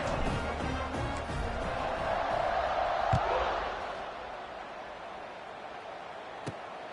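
Stadium crowd in the College Football 26 video game cheers in a broad, steady roar that swells and then fades slightly. A couple of sharp knocks cut through, and no clear talk is heard.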